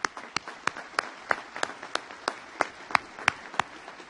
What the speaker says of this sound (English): They deserve another round of applause.